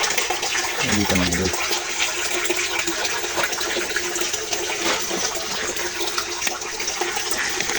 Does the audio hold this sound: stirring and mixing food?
no